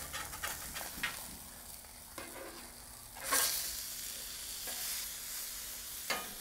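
Catfish fries on a Blackstone griddle with a soft, crackling sizzle, punctuated by a few brief scraping bursts from a spatula; fairly quiet and close, with no talking.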